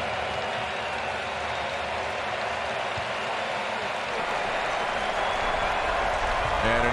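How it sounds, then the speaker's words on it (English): A baseball crowd applauding after a home run at a Seattle Mariners game, giving a broad, steady wash of clapping and crowd noise that holds throughout. "A lot of people are applauding"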